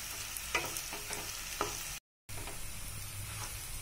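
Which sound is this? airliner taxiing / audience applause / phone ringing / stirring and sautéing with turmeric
stirring and sautéing with turmeric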